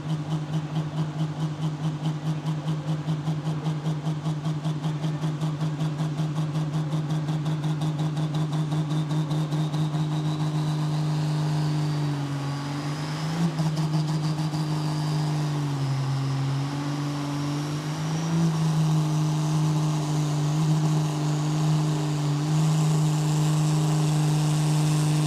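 The Red Impact pulling tractor roars at a tractor pull event in Knutwil, a loud sustained engine drone holding steady for the whole stretch with slight wavering in pitch midway.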